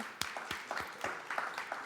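Sparse, scattered claps ring out individually at an awards ceremony, a thin round of applause with distinct hand strikes rather than a dense roar.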